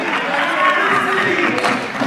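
Members of parliament clapping in the chamber during a debate: a steady, dense patter of many hands with murmuring crowd noise beneath, moderately loud and continuous throughout.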